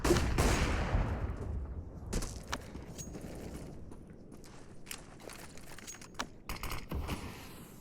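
Gunfire from a CS:GO match rattles in a quick burst at the start, then scattered faint shots and clicks follow at a distance, quiet and sporadic against low background noise.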